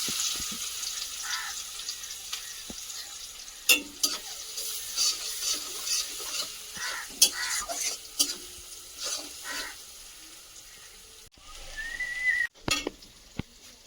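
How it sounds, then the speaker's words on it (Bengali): Crushed garlic dropped into hot oil left from frying potatoes, a hissing sizzle broken by repeated clinks and scrapes of a utensil against the pan, with a few sharp knocks near the end. "এবার ওই তেলেই দিয়ে দিচ্ছি থেতো করা রসুন"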